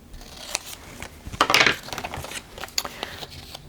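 Scissors cut a sheet of paper in half for a junk journal, a run of small close snips and crisp slicing sounds with one brief louder rustle in the middle.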